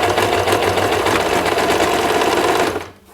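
Sewing machine back stitching elastic onto crocheted thigh-high leg warmers, a loud steady whirring motor with rapid needle clatter running continuously, then cutting off abruptly near the end.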